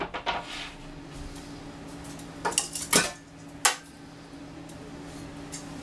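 A wooden cutting board is flipped over on a kitchen counter beside a roast pork loin just out of the oven. A few sharp knocks and clatters stand out, with soft handling noise between them.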